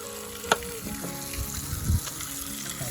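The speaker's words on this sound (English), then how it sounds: "cut up some nice peppers to put in that delicious bacon grease" Sliced peppers sizzle in bacon grease in a seasoned cast iron pan at an outdoor camp while hunting turkeys on public land, a steady close crackle broken by a sharp knock and some scraping clatter, with no talking.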